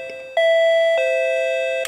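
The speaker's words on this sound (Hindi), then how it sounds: "जब भी आप स्विच को ऑन करके छोड़ोगे तभी घंटी बजेगी" An electric doorbell switched on by hand rings with a sustained, steady bright tone that starts sharply after a brief pause, holds for about a second and a half, then ends with a click.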